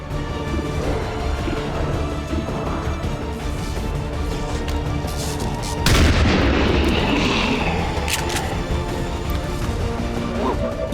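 A ranger's gunshot in XCOM 2 rings out amid a dense, busy game soundscape, one sharp loud blast around the middle followed by a brief rumbling tail, with steady background noise throughout.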